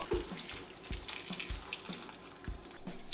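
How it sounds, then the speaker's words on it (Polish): Water trickles and drips steadily while it is filtered for a mushroom sauce in a home kitchen, with soft rhythmic splashes and no talk. "Filtruje się woda do sosu."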